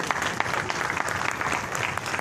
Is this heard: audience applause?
yes